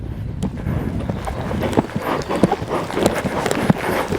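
A stallion canters through a dressage pirouette in training, its hoofbeats landing as soft, rhythmic thuds over light wind noise on the microphone, fairly close and steady throughout.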